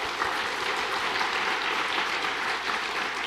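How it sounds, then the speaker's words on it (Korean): A church congregation applauds during a Sunday afternoon worship service, a steady wash of many hands clapping together for several seconds without talk. "우리 하나님 앞에 영광의 박수 한번"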